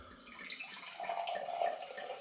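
Sparkling apple mead pours into a glass with a soft, close liquid trickle that swells into a steadier gurgling stream as the glass fills.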